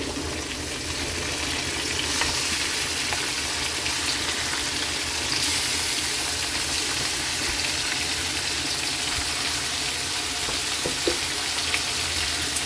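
Pork ribs dropped into a hot pot for sinigang, giving a steady, bright sizzle of frying meat that holds at an even level throughout, with faint stirring and no talking.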